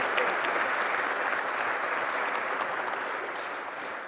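An audience applauds steadily at a city inauguration ceremony in Peabody, a dense, even wash of clapping that stays loud throughout with no talk over it.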